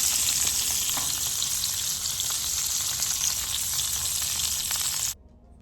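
Fish fries in butter with lemon juice and garlic, meaty side down, giving a bright, constant close sizzle with small crackles that cuts off abruptly near the end.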